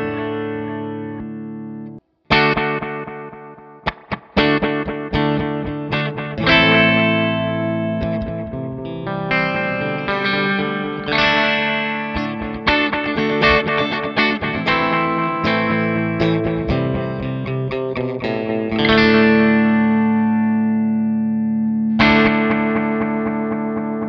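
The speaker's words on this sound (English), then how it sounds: "here's vintage mode, which actually cuts down the maximum delay time, so we're really kind of entering more of a classic analog Bucket Brigade sound here" Electric guitar through a Diamond delay pedal set to vintage analog bucket-brigade mode, picked notes and chords ringing out with short warm repeats and light modulation, played steadily for over twenty seconds with no talking.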